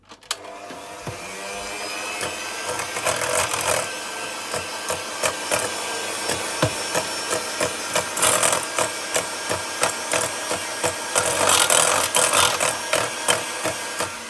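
Electric hand mixer beating pineapple upside-down cake batter, a steady loud motor whir running throughout with a busy rattling, clattering texture from the beaters against the bowl, no talk.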